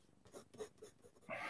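A pen draws lines across paper during a drawing session, a few soft scratchy strokes in quick succession ending in one longer, louder stroke, heard close with no talk.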